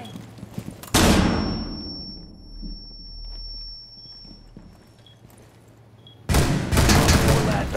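A flashbang grenade in Rainbow Six Siege goes off with a loud broadband blast, followed by a long high ringing tone that fades over several seconds. A second loud burst of noise hits near the end.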